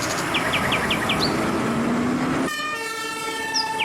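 A toy fire truck's electronic siren plays loud and close, a warbling wail with short horn-like toots, then steady tonal notes after a brief switch in pattern, with no talking.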